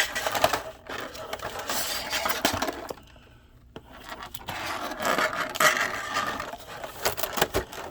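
Stiff plastic packaging of a NECA Terminator 2 Sarah and John Connor two-pack figure set scrapes and rasps as it is opened, with close, irregular scratchy rubbing bursts and a short quieter pause midway.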